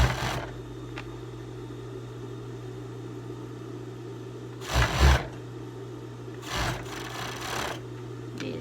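A sewing machine runs steadily while stitching a teddy jacket with a zipper, a close, continuous mechanical hum broken by a few louder knocks and clatters, with no talking.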